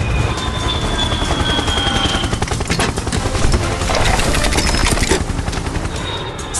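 Helicopter rotor thumping loudly and steadily in rapid chopping pulses, close by and continuous, with a faint high whine above it and no talking.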